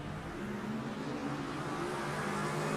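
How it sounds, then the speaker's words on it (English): A sports race car engine in a sim racing game drones steadily through a pole start into turn one, a sustained buzzing roar that stays fairly even and loud throughout, with no talk. "You can hear him revving the engine."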